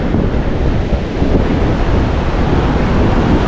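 Ocean surf rolling in at Karon beach, Phuket, a loud, continuous rushing wash mixed with heavy wind buffeting the microphone, no voices.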